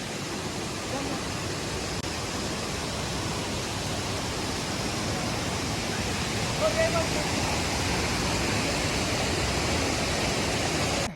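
A hill river in Nepal rushes past beside a walking trail, a steady close roar of flowing water filling the whole stretch, with faint talk underneath.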